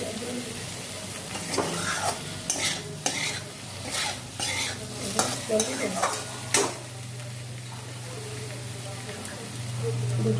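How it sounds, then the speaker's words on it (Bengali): Chili powder frying in a pan, a steady sizzle under a run of rhythmic scraping stir strokes that stop partway through, leaving the hiss alone with a low hum. "ভাল লঙ্কা গুঁড়ো ভেজে নেব দুটো"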